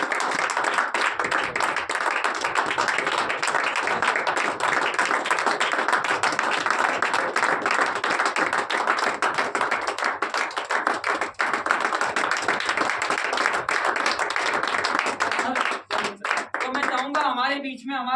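Sustained, loud applause from a seminar audience in Jaipur, dense clapping throughout with voices mixed in near the end.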